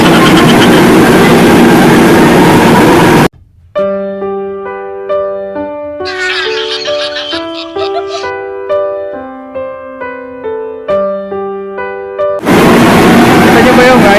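Loud rumbling noise of a running MRT metro train fills the opening seconds and returns at the end, with a stretch of music in between.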